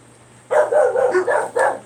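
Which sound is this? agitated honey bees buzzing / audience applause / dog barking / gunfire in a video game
dog barking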